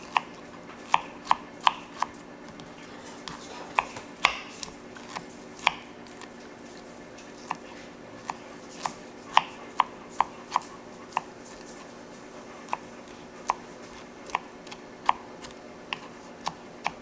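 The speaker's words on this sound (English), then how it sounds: "And then you just chop it up" A knife chops nectarines for blueberry nectarine freezer jam, giving sharp, irregular taps on a cutting board, sometimes in quick clusters, close and fairly crisp, with no talking.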